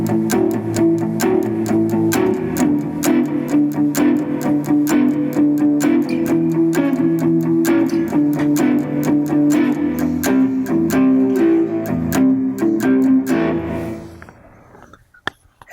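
An electric guitar plays a chorus lick, a busy run of picked notes repeated twice over about fourteen seconds with a slightly driven tone, close and steady before ringing out and fading near the end.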